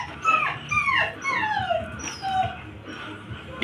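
A dog whines and whimpers in a string of high, falling cries, close and fairly loud, with no talk over it.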